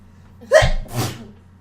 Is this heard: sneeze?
yes